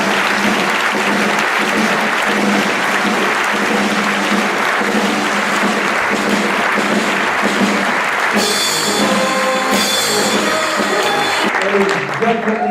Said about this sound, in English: please clap all your hands for a really warm welcome